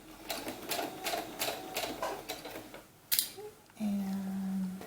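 A sewing machine stitches a channel in a doll's sunsuit in short rhythmic bursts of rapid needle thumps, near and moderately quiet, followed by a click and a brief low motor hum.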